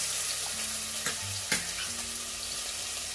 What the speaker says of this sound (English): I'm going to fry the onion.